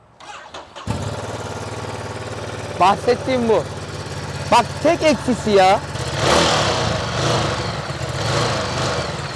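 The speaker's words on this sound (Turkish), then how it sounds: "Ben de sevmiyorum şu Ducati'nin stok sesini." A Ducati Multistrada V2S engine with stock exhaust starts up and idles with a deep, clattery rumble, then revs briefly; people talk close by over the engine.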